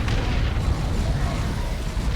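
A large orbital bombardment explosion in the Dawn of War 2 battle game gives a sustained, loud, deep rumbling roar that holds steady throughout with heavy low-end boom and crackling noise.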